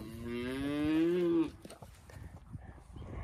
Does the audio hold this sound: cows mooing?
yes